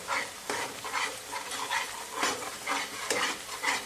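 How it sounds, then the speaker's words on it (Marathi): Ground masala paste is stirred and fried in oil for a Maharashtrian drumstick and potato curry. It gives a steady moderate sizzle, with repeated scraping strokes about every half second and no voice over it. "हे पहा असं छान मसाल्याला तेल सुटेपर्यंत आपल्याला हे वाटण जे आहे ते परतवून घ्यायचे"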